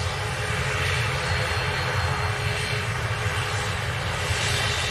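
A steady, loud aircraft engine drone at an airport, starting up, fills the whole stretch, constant and unbroken with a broad rumbling roar.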